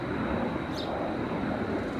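A Southwest airliner flies past near an airport on a hot sunny day, a steady, distant broadband roar with a faint high whine that holds level for the whole two seconds.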